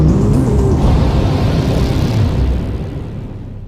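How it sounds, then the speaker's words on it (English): A rocket's upper stage engine fires with a loud, broad, steady roar that holds strong and then gradually fades away toward the end. "The upper stage of the rocket fires again."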